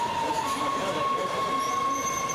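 A Washington Metro train at National City Station gives off a steady, loud rail rumble with a thin, sustained wheel squeal or whine running through it.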